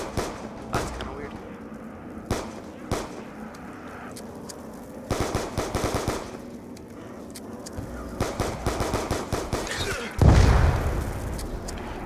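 Gunshots in a zombies shooter game, scattered single shots and short bursts at a moderate level, with a louder blast near the end, all laid over steady game background noise.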